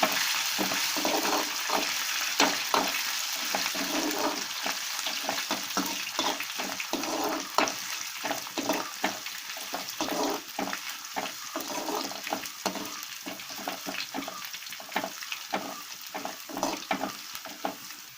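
Ginger and garlic frying in oil for lemon pickle give off a continuous close sizzle, broken by frequent quick crackles and stirring scrapes that keep a loose, busy rhythm throughout, with no one talking.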